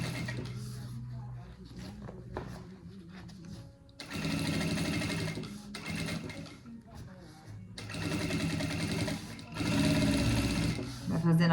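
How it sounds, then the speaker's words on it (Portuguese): A sewing machine stitches a seam on fabric, its motor whirring in several bursts separated by short pauses, while someone talks over it. "Vai fazendo a costura aqui bem na pontinha."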